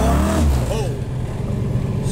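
A 1993 Mustang GT superstock car pulls away hard. A loud, close engine roar rises in pitch for about a second, then settles into a steady rumble, with someone speaking over it.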